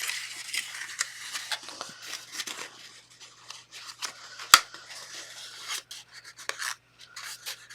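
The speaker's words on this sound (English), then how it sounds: "I'm going to snip this part off." Sharp scissors snip off part of a paper chocolate heart gift box: a run of quick, close, crisp cuts and rustles at an uneven pace, with one louder snap midway and no talking.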